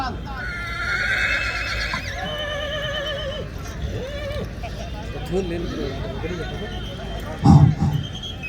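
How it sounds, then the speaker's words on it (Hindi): A horse neighs and whinnies repeatedly at a horse show competition during the Jawai Dam festival at Ranakpur, with hooves clip-clopping and a crowd murmuring and talking around it, plus a short loud bump near the end. "कैलाश जी का घोड़ा सुल्तान"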